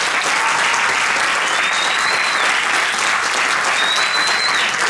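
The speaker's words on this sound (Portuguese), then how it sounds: "Um forte aplauso então para todos eles." Loud, sustained applause from a theatre audience at a children's rights anniversary arts event, dense and continuous clapping filling the whole stretch, with a couple of faint whistles above it.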